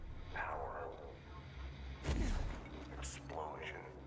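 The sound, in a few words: explosion in a video game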